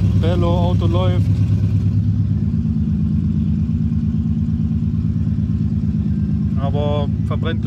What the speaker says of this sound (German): Auto läuft.